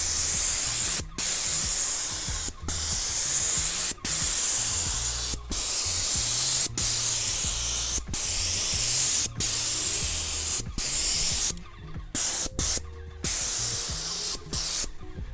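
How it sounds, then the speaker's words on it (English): Airless paint sprayer spraying paint onto a brick house exterior, a loud steady hiss running in long bursts broken by brief trigger releases, with rapid on-off cuts near the end. "Airless paint sprayer, I'm going to show you how we do this."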